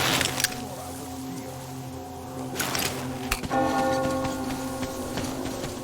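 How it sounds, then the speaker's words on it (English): A church bell rings in the post-apocalyptic world of Metro Exodus, with several distant clanging strikes whose tones hang and ring out over a low ambient background. "You hear that bell?"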